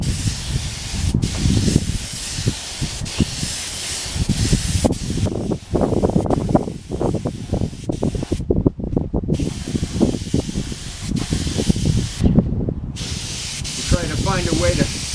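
Compressor-fed spray gun laying a first coat of black basecoat onto a tank outdoors on a hot, windy day: a sustained airy hiss that stops briefly twice, with wind buffeting and some low voices underneath.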